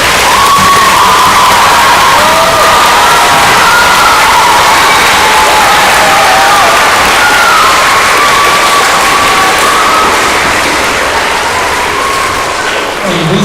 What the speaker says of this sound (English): let's give one more big round of applause for our veterans